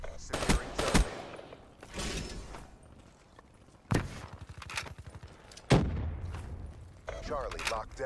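XR-2 rifle bursts ring out in Call of Duty Black Ops 3 multiplayer, with several short, sharp volleys spread across the stretch and footsteps and game chatter between them.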